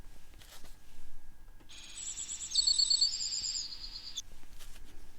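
Birdsong slowed to quarter speed in GarageBand, turned into a sustained, warbling high electronic tone lasting about two and a half seconds, with wavering pitch, set against quiet background noise.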